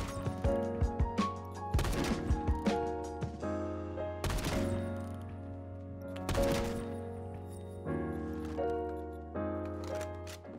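M107 sniper rifle fire in the Phantom Forces video game: several loud, sharp shots with ringing tails, spaced a couple of seconds apart over a constant low drone, with mechanical clicks between shots.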